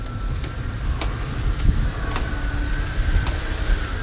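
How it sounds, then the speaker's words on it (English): A steady, loud blowing drone with a faint whine runs throughout, a powerful hairdryer heard through a cruise ship cabin wall, with occasional light clicks. "someone's got a really strong hairdryer in that room."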